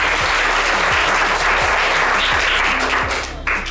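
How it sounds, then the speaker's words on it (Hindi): Classroom audience at a motivational talk giving a loud burst of applause for a student, dense and continuous with a few stronger claps cutting through, tapering slightly at the end. "प्रिया के लिए तालियां बजाओ"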